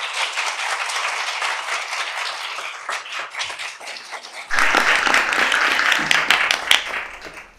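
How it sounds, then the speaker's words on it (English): Audience applause at a public panel discussion on book bans, a dense patter of many hands clapping that thins out, then swells louder and fuller partway through before tapering at the end. "Let's give them a big round of applause."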